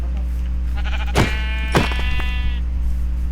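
Sheep bleat in a Minecraft game, two loud bleats standing out over a steady game hum and background tones.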